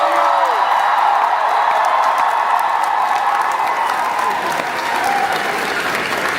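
A live concert crowd in Cleveland, Ohio applauds and cheers loudly, dense continuous clapping with scattered whoops that holds steady and fades slightly toward the end.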